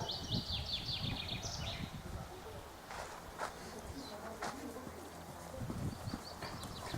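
A young horse's hooves clop on the ground in an uneven trotting rhythm, with birds chirping nearby and a voice talking in the background.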